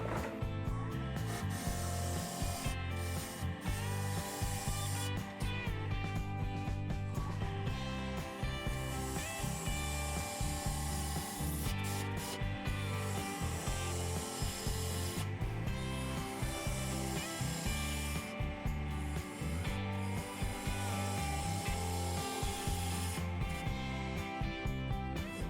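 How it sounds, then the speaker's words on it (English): A 3/8 inch bowl gouge cuts a wooden tea light holder blank held in a 4-jaw chuck on a lathe spinning at 2,000 RPM. The scraping, rubbing cut stays loud and continuous throughout, with no talking. "I'm going to be using my 3/8 inch bowl gouge to turn this round."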